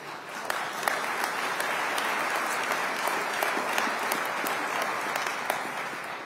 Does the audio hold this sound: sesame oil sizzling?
no